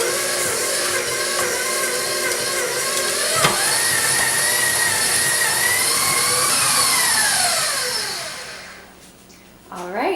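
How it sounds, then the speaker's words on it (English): Stand mixer with a paddle attachment creaming unsalted butter and sugar, a steady loud motor whir running close and continuously before winding down near the end. "a mixer that's been fitted with a paddle attachment. You want to put your stick of unsalted butter in there."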